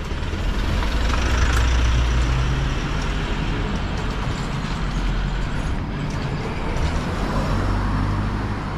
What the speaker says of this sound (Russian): Вон, видите, как машина очень близко едет прямо вот к забору.